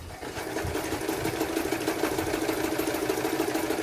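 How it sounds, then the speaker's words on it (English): Serviced metal sewing machine stitching taffeta at a slow, controlled pace, a close steady mechanical chugging and whirring with rapid even rhythm throughout, no talking. "let me show you how easy it is to control it and how slowly you can go"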